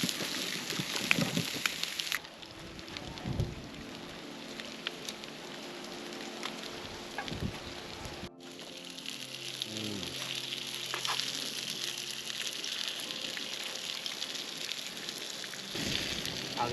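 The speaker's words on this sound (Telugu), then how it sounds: "చేప తిప్పేస్తున్నా." Fish being fried in a pan, a steady hissing sizzle that holds throughout, with a brief clatter as the fish is turned partway through.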